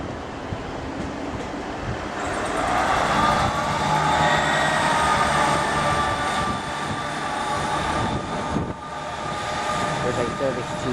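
A Northern train pulls out of Leeds station with a sustained rumbling engine and wheel noise that swells and holds steady, while someone talks over it.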